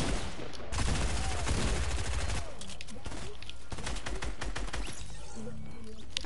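Rapid bursts of gunfire from a shooter video game, dense automatic volleys close and loud for the first few seconds, then scattered single shots and shorter bursts, with no talk over them.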